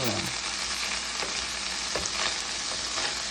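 Sliced ingredients sautéing in a hot pan give a steady, loud sizzle and crackle, with occasional scrapes and clicks as they are stirred around, and no voices.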